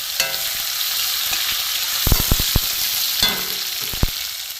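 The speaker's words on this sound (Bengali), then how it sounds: "পেঁয়াজটা একটু ভাজা ভাজা হোক।" Onion and tomato fry in oil in a wok, a steady close sizzle running throughout with several sharp stirring clatters and taps from the pan, no voices.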